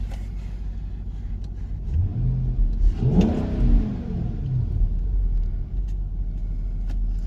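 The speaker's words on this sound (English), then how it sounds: "Let's go ahead and give it a little rev." An Infiniti M45's VK45DE V8, fitted with an Injen intake and already warmed up, idles with a steady low rumble, then is revved twice in quick succession, rising and falling before returning to idle close by.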